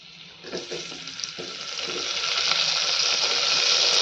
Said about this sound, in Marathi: जिरे थोडेसे फुलले की आपल्या भाज्या घालून घ्यायच्या सुरुवातीला बटाटा